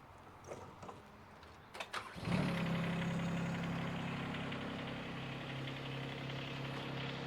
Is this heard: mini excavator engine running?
yes